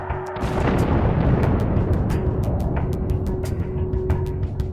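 Bomb explosions in a war documentary about aircraft carriers and crude iron bombs, heard as a dense, sustained roar of rumbling blasts with sharp cracks scattered throughout, loud and continuous with no speech.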